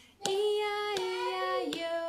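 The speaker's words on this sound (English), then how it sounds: "let's start with clapping" Three sharp hand claps spaced about a second apart, keeping time under a sustained sung tune, close and clear.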